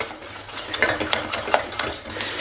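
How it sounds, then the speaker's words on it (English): Egg yolk being mixed into a cheese Mornay sauce, with a rapid run of metal utensil clinks and scrapes against a bowl or pan, close and fairly loud, with no voices. "I'm going to mix everything well"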